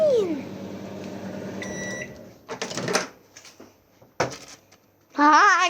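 A microwave oven heating chicken nuggets hums steadily, then gives a short run of high beeps as it finishes, followed by door and handling clatter and a voice speaking near the end.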